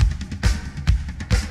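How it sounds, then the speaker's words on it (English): Filtered snare drum with added reverb in a rock remix, hitting in a quick repeating pattern with crisp cracks and short reverberant tails alongside low kick-like thumps. "Now the snare has more reverb and crack to it."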